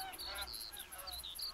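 Geese honking in the hunting video game theHunter: Call of the Wild, a rapid series of nasal honks from a flock, moderately loud and continuous with no talking.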